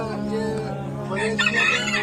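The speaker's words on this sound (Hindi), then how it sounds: "वहाँ तरह तरह की मुर्गियाँ थी" Chickens of various breeds in a garden, with close, loud crowing and clucking that swells toward the end.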